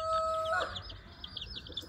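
A mother hen clucks softly near her own chicks and several adopted ones on a farm, in a brief, scattered sequence of bird calls that follows two short steady tones at the start.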